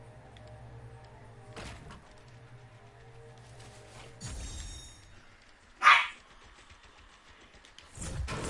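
A pet Chihuahua barks in several short bursts, a sharp yip near six seconds standing out loudest, with quieter thumps and indoor noise in between.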